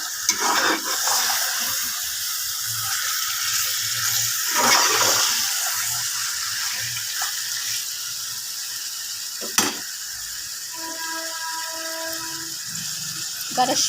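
Goat blood fry being stirred in a pan, a steady sizzling, scraping texture continuing throughout with a few brief clinks from the utensil, no speech.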